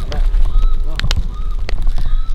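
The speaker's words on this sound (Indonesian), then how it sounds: "Ngeri banget, ada suara gagak anjir" Crows caw in a video game forest setting of burned woodland, with a few harsh, close cries standing out over a loud, steady game background.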